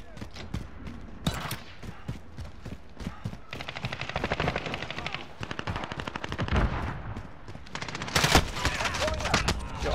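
Rapid machine gun bursts in Call of Duty: Modern Warfare multiplayer, loud and close, with repeated rattling volleys across a construction site map, broken by short gaps and mixed with a player's voice talking over the gunfire.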